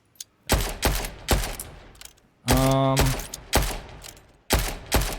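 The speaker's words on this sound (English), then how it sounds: "Yes, more gunshots." Several sharp, loud video game gunshots ring out at irregular intervals, one followed by a ringing metallic tail, with silence between shots.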